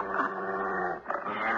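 Low continuous dog growl in a 1978 radio drama, steady and close, rumbling for under two seconds with a brief dip midway.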